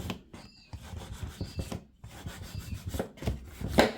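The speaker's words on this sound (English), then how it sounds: "while it's drying, I'm burnishing so that it sticks down properly" A burnishing tool rubs firmly over a freshly glued paper flap, giving close, dry, scraping strokes in an uneven back-and-forth rhythm with brief pauses.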